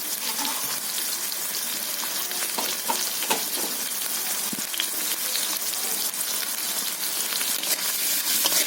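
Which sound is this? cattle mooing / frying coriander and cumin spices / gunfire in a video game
frying coriander and cumin spices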